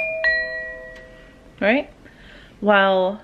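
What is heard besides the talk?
doorbell ringing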